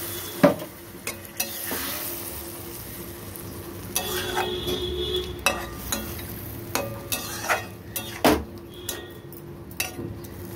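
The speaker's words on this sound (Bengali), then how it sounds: "এবার আমি জল দিয়ে দেবো" Mustard fish curry of boyal fish sizzling in a pan as a little water is poured in, with steady frying hiss and repeated sharp clinks and scrapes of a spoon stirring against the pan, close and fairly loud throughout.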